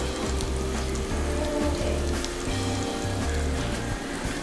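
Garlic frying in a pan until golden, a dense, continuous close-up sizzle and crackle with no talk, over a low rhythmic background beat.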